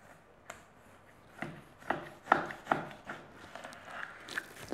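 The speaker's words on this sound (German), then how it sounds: "ich schneide jetzt 4 Portionen raus, sozusagen 4 Steaks" A knife slices through a beef shoulder roast on a cutting board to portion out four steaks: irregular, close, fairly soft strokes and scraping cuts in an uneven rhythm, with no talking.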